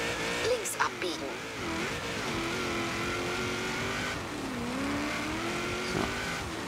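Car in Forza Horizon 3 driving toward a drift zone, its engine droning steadily and close with rising and falling pitch as it accelerates and eases off, under continuous talk.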